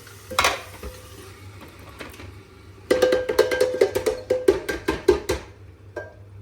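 Saag being tipped from a container into a pot during home cooking in Canada: a dense run of rattling clinks and metallic clatter with a faint sizzle, after one earlier knock.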